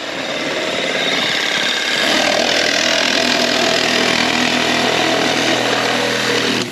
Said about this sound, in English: Now we just happen to have a hacksaw